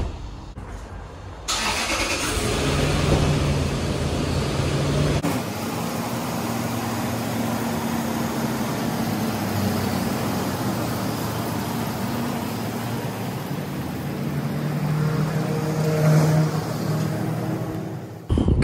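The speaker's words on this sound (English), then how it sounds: "we're gonna pull it out and take it for a quick test drive" Lexus GX470 with a freshly installed Eibach Pro Truck lift kit starts up and drives on a test drive, a steady loud engine and road drone with gear-change dips, running alone without talk.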